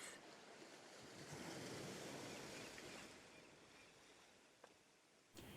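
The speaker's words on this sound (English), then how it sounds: "he might splash his tail up and down in the water, like this" Water surges and splashes in a broad, rushing wash, like a humpback whale's tail slapping the sea. The sound swells in the middle, then eases off, with a sharp splash near the end.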